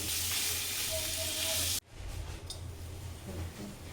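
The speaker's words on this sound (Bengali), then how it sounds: "চিংড়ি মাছগুলোকে একটু নুন হলুদ মাখিয়ে হালকা করে আগে একটু ভেজে নেওয়া হবে" Prawns rubbed with salt and turmeric hit hot oil with a loud, dense sizzle that cuts off abruptly, followed by a softer, uneven crackle of frying with a few faint clicks.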